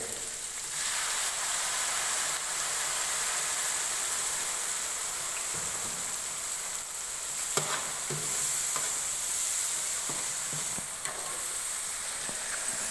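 Chili powder and tomato gravy sizzling steadily in a pan, a bright continuous hiss with occasional scraping knocks from stirring scattered through.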